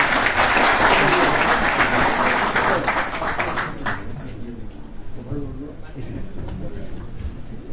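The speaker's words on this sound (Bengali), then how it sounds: "আমরা করতালি দিয়ে তাকে অভিনন্দন জানাই" Audience at a political discussion meeting breaks into loud, dense applause to welcome the main speaker, clapping for about four seconds before fading as people talk over the room.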